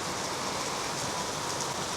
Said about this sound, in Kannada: ಭರ್ಜರಿ ಮಳೆ, ಜೋರು ಜೋರು ಮಳೆ.